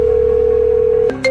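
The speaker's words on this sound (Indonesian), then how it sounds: "Siapa nih nomor gak dikenal telepon gue?" A telephone tone from an unknown number calling, a steady single electronic beep held for about a second, then broken off into a brief higher chirp, close and loud.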